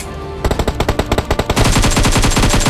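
Rapid automatic gunfire from a mobile battle-royale shooter match, a short burst of evenly spaced shots followed by dense continuous firing, loud and close with no talk.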